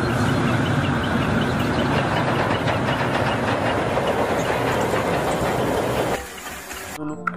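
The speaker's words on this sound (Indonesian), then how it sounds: "Coba dinyalakan. Wah, kereta api Thomas." A battery-powered Thomas toy train runs with a dense, continuous rattling clatter and whirring motor for several seconds, then cuts off into a quieter close tail with a small click.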